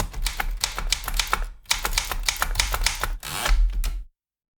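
Vintage typewriter in use at a live impromptu poetry performance, dense rapid keystrokes clacking close and loud with short pauses, ending in a carriage return and a sudden stop.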